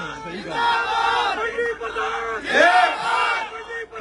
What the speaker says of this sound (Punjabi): ਠੋਕ ਕੇ ਮਾਰੋ ਤਾੜੀ